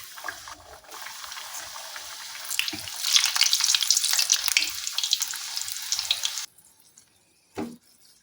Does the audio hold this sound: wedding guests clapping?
no